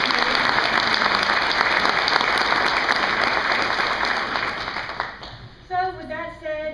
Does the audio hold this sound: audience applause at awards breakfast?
yes